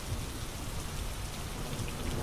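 Steady rain pours continuously while low thunder rumbles underneath, a dense and even wash of sound with no voices.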